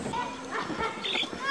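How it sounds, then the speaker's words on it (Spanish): Dogs in a Matsés village in the Peruvian jungle bark at arriving visitors, giving a few short yips and barks mixed into ongoing nearby talk. "Nos están recibiendo con ladridos."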